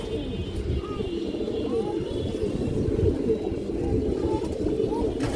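A red male high-flyer pigeon gives low, rolling coos up close, repeated over a steady throaty murmur, with faint chirps in the background.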